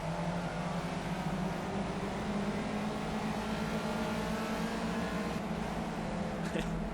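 Racing car engine in the Project Cars sim, a steady low drone throughout at moderate level, blended with the noise of opponents' engines around it, with no talking.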